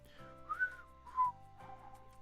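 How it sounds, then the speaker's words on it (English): A person whistles a short tune close to a microphone, three wavering phrases with gentle swells, breathy and near, with no talking. "I probably shouldn't be whistling down the microphone either"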